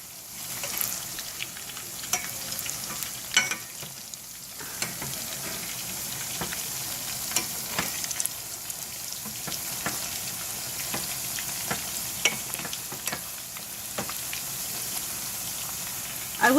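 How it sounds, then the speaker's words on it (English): Tortillas fry in hot oil for a cinnamon sugar dessert, a steady close sizzle with scattered pops and crackles and occasional utensil scrapes, no talking. "So I'm going to just fry them up."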